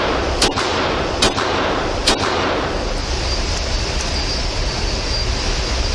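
Three sharp gunshots crack out at a steady pace from an unsuppressed Ruger Mark III pistol, loud and close against constant outdoor wind noise.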